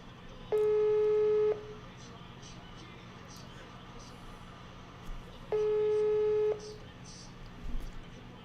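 An unanswered phone call rings out with two long, steady ringback tones about five seconds apart, each lasting roughly a second, over a quiet background.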